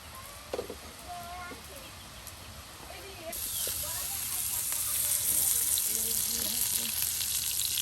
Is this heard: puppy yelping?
no